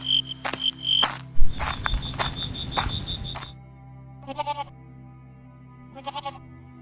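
A goat bleats in several short cries, then quieter bleating returns twice at intervals, with a faint insect-like background.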